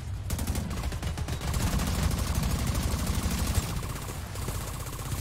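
Gunfire from The Division 2 rattles in rapid, sustained automatic bursts, loud and close, with a brief gap near the start and no talking over it.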